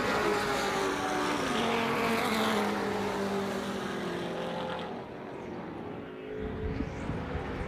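Race cars screaming past on the track at Hallett during a Hoosier Super Tour race, loud sustained engine roar with shifting pitch, fading slightly midway then swelling again, no talk.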